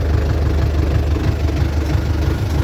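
A DTZ 5404 tractor engine runs loud and close at about a thousand rpm in low gear while cultivating potatoes, with a steady low rumble and no talk.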